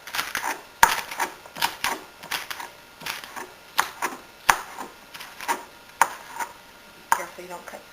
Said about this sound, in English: And once again on an angle, using a serrated knife.